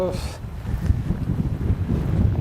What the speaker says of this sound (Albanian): Kjo era krijon valzim në ujë dhe na e thyn pamjen atë pasurimin e duhur